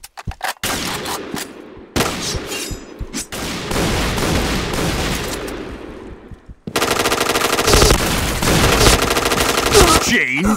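Rapid automatic T77 rifle fire in the Point Blank shooter game, sustained bursts broken by brief pauses, loud and close, with a denser, harsher stretch of continuous fire toward the end.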